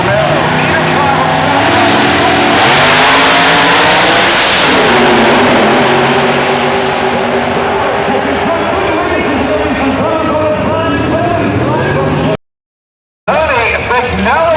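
A drag-racing Camaro with a 706 cubic inch Chevy engine roars loudly down the strip at the 2004 IHRA finals in Rockingham, North Carolina, the rising engine note fading after a long pull, with a voice talking over it and a brief cut near the end.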